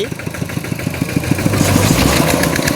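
A tractor engine chugs in a steady, rapid idle rhythm close by, then grows slightly louder and rougher toward the end, with no voices heard.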